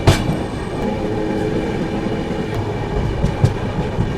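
The Shipra Express passenger train travels through countryside between Kolkata and Ujjain in a steady, loud rumble with rattling carriages and occasional wheel clacks, heard from inside, with no one speaking.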